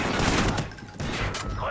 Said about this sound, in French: Tir de suppression.